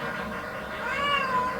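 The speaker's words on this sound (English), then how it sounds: "Oh, hey kitty." Cat meowing in the Sega Genesis game Elemental Master, a rising-then-falling synthetic meow of about a second over steady game music.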